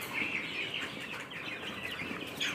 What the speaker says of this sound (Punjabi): ਇਹ ਆਪਣੇ ਸਭ ਤੋਂ ਛੋਟੇ ਚੂਚੇ ਆ